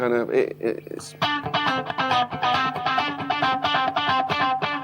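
Electric guitar plays quick, chopped notes through a rhythmic tick delay effect pedal that repeats each note in a steady pulsing pattern, fairly loud and close.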